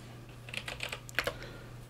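Typing on a computer keyboard to enter a command in a Linux terminal: a short run of light, close key clicks over a steady low electrical hum, with no talking.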